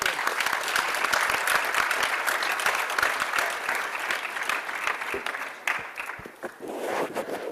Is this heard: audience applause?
yes